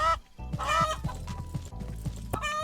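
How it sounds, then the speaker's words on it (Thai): A chicken in the Estate Agent Simulator video game clucks in a quick series of close, bright squawks and clucks, with light clip-clop-like knocks and game sounds underneath. "นี่ได้ไก่มาตัวหนึ่ง"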